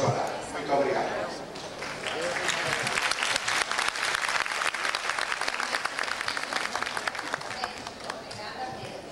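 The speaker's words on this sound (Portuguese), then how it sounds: "eu gosto muito de provocar os aplausos" A fashion-show audience breaks into sustained applause after words of thanks, a dense wash of many hands clapping steadily with crowd murmur underneath.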